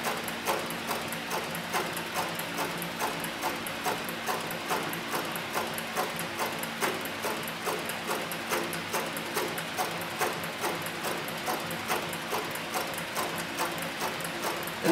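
A CowBoy 105 leather sewing machine with a size 328 needle stitching leather: a steady, fast mechanical clatter of even stitch beats at a regular rhythm, close and continuous throughout.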